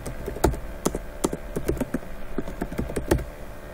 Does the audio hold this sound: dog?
no